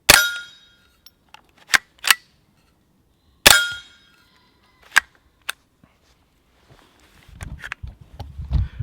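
A suppressed semi-auto rifle fires at a steel target, giving sharp metallic pings: two pairs of rings, then a lone strike, each decaying quickly, followed by faint rustling and handling noise.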